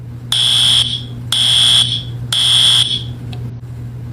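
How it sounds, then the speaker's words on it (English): A school fire alarm sounds three loud, piercing electronic beeps in an even rhythm, each about half a second long, over a steady low hum, followed by a brief quieter pause. "This is a fire alarm"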